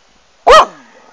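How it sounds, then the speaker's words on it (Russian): A dog on a flowering beach gives a single sharp, loud bark close by, followed by a short fading echo and quiet. "И слушайте гавканье собаки."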